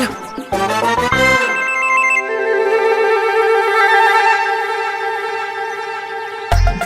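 A mobile phone rings loudly and close with a bright, repeating melodic ringtone that plays continuously for several seconds and then cuts off abruptly. No one speaks.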